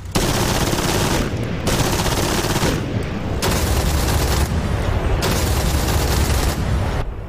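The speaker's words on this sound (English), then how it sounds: "4 303 machine guns and 4 20mm cannon, so that's 8 guns up front, all on the center line of the aircraft" Four .303 machine guns and four 20mm cannons on a Mosquito FB VI in the DCS flight sim fire in long, loud bursts, with about four short pauses between the strings of shots.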